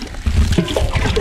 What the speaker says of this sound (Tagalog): At kailangan nating maglagay ng tubig doon sa may water pump mga kaisan